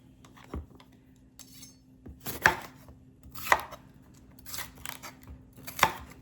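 Onions and bell peppers being roughly chopped on a cutting board, a handful of sharp, separate knife thuds spaced irregularly, close and clear against a quiet kitchen.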